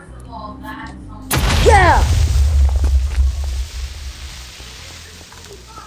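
A loud booming explosion erupts in the Mizzle III game, followed by a rumbling roar that fades over several seconds, with a voice speaking briefly beforehand.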